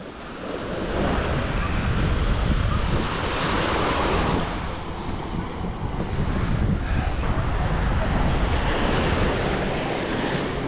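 Ocean surf rolls continuously onto a sandless stretch of beach at Playa de la 38 in Playa del Carmen, a dense, loud wash of breaking waves with wind buffeting the microphone.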